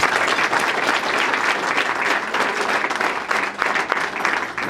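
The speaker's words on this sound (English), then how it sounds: "Please give them a round of applause." Dense, loud applause from an audience at the opening of a Sister Cities International 60th anniversary celebration, a continuous wash of many hands clapping close by that holds steady throughout, with no talk over it.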